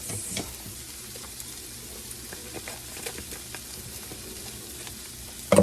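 Lentils sizzle and fry in a pan over low heat as McCormick reduced-sodium taco seasoning is sprinkled in, a steady soft crackling hiss with small pops and stirring scrapes, close and fairly quiet.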